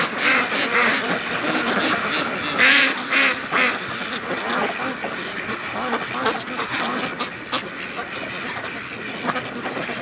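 Free-range ducks quacking in a busy, overlapping chorus on an icy lake, with Brant geese mingling among them; the calls come close and fairly loud, with bursts of honking throughout.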